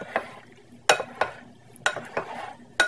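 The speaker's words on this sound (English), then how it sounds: "And now we're just going to stir it, get it real incorporated in here." Macaroni in a dish being stirred with melted butter, heard as a series of sharp scraping and clinking strokes against the dish, about six distinct hits spaced irregularly, close and fairly loud with no talking.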